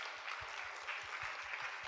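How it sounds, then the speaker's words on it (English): Congregation applauding inside a church service, a soft, steady patter of many hands at a distance, fairly quiet throughout. "Big round of applause."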